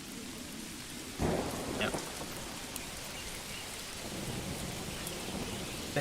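Rain and thunder in Manor Lords: faint, steady rainfall hisses throughout, broken by a soft thunder crack near the start, with a brief spoken word.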